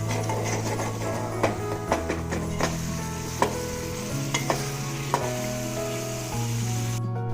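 Brinjal (eggplant) curry with turmeric and spices cooking in a pan, a steady low sizzle and bubbling running throughout, with scattered clinks and taps of a spoon against the pan rising above it.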